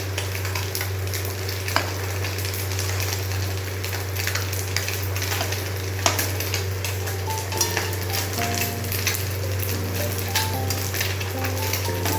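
Fish pieces fry in a simmering curry with a constant sizzling hiss, while a utensil stirs and scrapes the pan with scattered clinks, with no talking.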